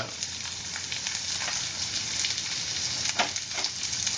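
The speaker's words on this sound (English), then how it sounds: "the mix of the cabbage, and I will just quickly stir fry it." Carrots, onion, capsicum and cabbage stir frying in a pan, a soft, continuous sizzle with light crackles and scraping, fairly faint and close.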